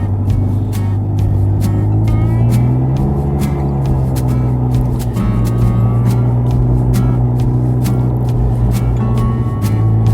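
A Polaris Razor side-by-side rolls along a forest trail in Uncompahgre National Forest, its engine giving a steady, loud low rumble throughout with no voices over it.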